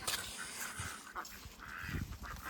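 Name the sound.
ducks quacking and honking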